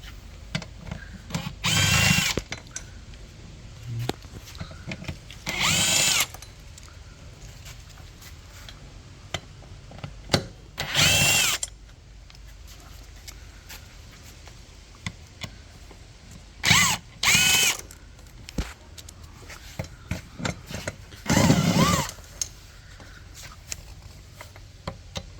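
Power tool driving an E10 socket on transmission mount bolts of a BMW 7 series 740i: several short bursts of whirring, each a second or two long, separated by quiet gaps with small clinks, fairly close.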